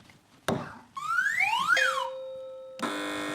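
Electronic quiz-show buzzer effects on a topical news panel show: a sharp hit, then rising and falling whistling sweeps, ending in a steady, loud buzzing tone, with no voices.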